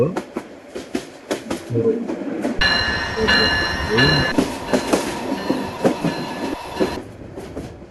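A locomotive in a Bangladesh train simulator game running at full speed, steady rolling rumble with rhythmic clickety-clack wheel beats and a stretch of high metallic squeal, under someone talking.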